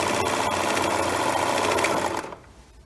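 A sewing machine stitches a seam on an heirloom nightgown, running as a loud, steady, close mechanical whir for about two seconds before stopping. No one talks over it.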